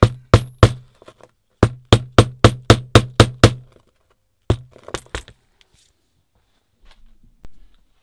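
A hammer repeatedly strikes a rock-hard concretion on a Bournemouth beach, a run of sharp, loud cracking blows in quick bursts, pausing, then a few more hits and scattered faint knocks.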